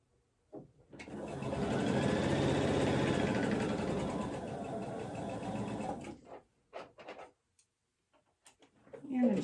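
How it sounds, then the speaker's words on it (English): A sewing machine stitching quilt pieces, running in one steady whirring burst of about five seconds, then stopping, followed by brief handling clicks and fabric rustles nearby. "And I'm just going to go ahead and sew back onto my scrap."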